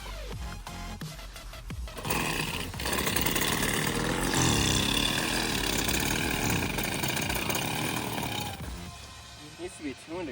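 The choked motor of a homemade hybrid scooter runs for about six seconds as a loud, steady mechanical drone, with clicks and handling noise before and after.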